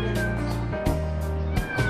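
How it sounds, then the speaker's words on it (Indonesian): A kitten meows in a market in a few drawn-out, wavering cries, close and loud over constant busy background noise. "Tuh, ini juga ada anak kucing"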